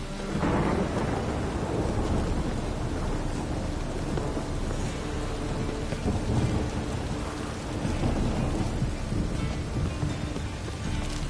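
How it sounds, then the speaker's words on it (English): A thunderstorm in The Witcher 3: Wild Hunt: steady heavy rain pours on surfaces while deep thunder rumbles roll through, loud and continuous with swelling peaks and no talking. "A storm, damn it."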